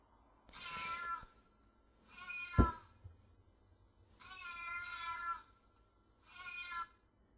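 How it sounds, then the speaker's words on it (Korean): An app plays a recorded cat meowing, four drawn-out meows with short pauses between them and a sharp knock partway through. No one speaks. "이제 고양이 울음소리"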